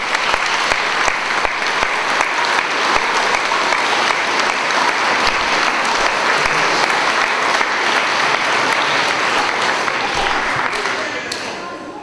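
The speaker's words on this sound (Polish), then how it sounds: "Prosimy jeszcze raz o brawa dla artystów." Audience applause for schoolchildren performers at an Independence Day ceremony, dense sustained clapping filling the hall, loud and steady before tapering off at the end.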